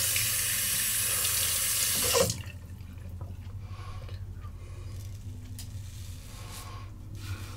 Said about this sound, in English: I always rinse my blades under hot water